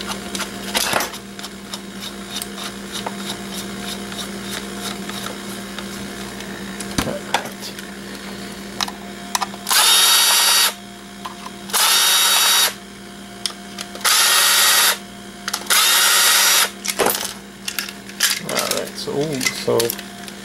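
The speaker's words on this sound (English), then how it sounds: "remove messed up screws, put the other bit back, we can start unscrewing." Power drill unscrewing screws from an alarm system panel, with several short whirring bursts of a few seconds each separated by pauses, loud and close over a background hum.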